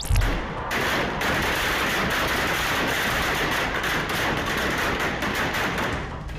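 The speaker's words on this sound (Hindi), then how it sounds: "फिर पूरा आसमान फायरिंग की आवाज से गूंज उठता है" Rapid gunfire and small explosions at a Holi celebration in a village near Udaipur, a dense continuous crackle of overlapping shots with sharper bursts, loud and sustained throughout.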